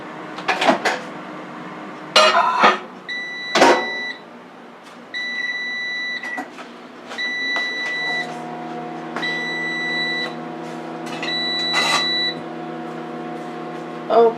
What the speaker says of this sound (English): I'm going to heat this up for 1 minute in the microwave